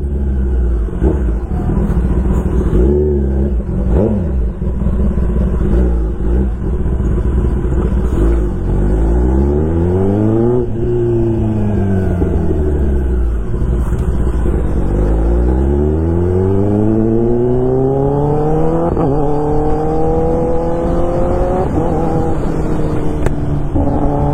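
Royal Enfield Bullet motorcycles rev loudly at an off-road bikers carnival track in Karjat, engine pitch sweeping up and down in repeated rising and falling throttle blips over a constant close rumble.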